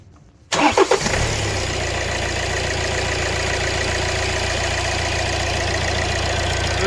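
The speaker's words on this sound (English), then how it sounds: "we're going to go for the first start here now and let it run for a wee minute" A Hyundai ix35 is started right after an oil change: a short cranking burst, then the engine catches and settles into a steady, even idle that holds close and loud to the end.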